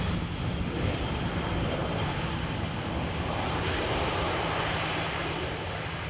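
A passenger jet in plain white livery roars past at Amsterdam Schiphol Airport, a loud, steady broadband engine rush that holds for several seconds with a low hum underneath and no voices.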